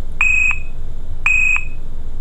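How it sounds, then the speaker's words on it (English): Abus Detecto 7000 RS1 alarm disc lock giving two loud, clear electronic beeps about a second apart, each a steady high tone lasting roughly a third of a second, over a low background hum. "that beep must have meant that the unit is now armed"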